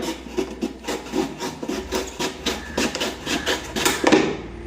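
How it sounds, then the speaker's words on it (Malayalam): A knife cuts through something firm with a rapid series of close, scraping, rasping strokes and a low background hum. "അത് ഒരു പിച്ചാത്തി കൊണ്ട് ഇങ്ങനെ കട്ട് ചെയ്ത് കളയുക"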